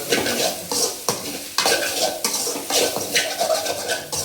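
A chicken fried rice base with onion being stirred in a hot pan for street-style fried rice, with rhythmic scraping strokes of a spatula over a continuous close sizzle.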